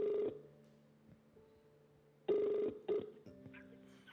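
A telephone rings on a random outgoing call, its electronic ring tone sounding in steady repeated bursts, clear and close with no talk over it.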